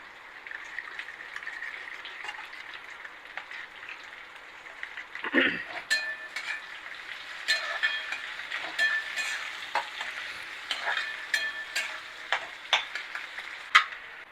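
A spiced capsicum curry with soy sauce and red chilli powder sizzles in a pan while a utensil stirs it, giving irregular clinks and scrapes over a steady frying hiss that grows busier partway through.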